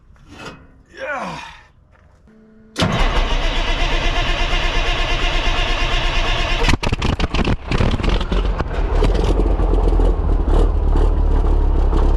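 An old pickup truck, long abandoned in a field, is started up with a short scrap five-inch straight pipe running out the side: a brief crank, then a loud, raw, continuous engine roar with a few stumbles. Faint talk comes before it.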